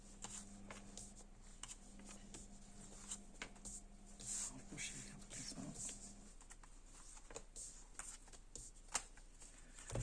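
Tarot cards shuffle softly and close by in a quiet room, a light patter of riffling and sliding with small taps, and one card slips loose from the deck.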